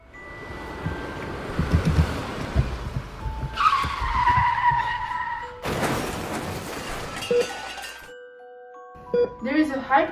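A car skids in a staged crash for a short film, with rough tire scraping and engine noise followed by a sharp impact and ringing, clinking debris, loud and close, with voices around it.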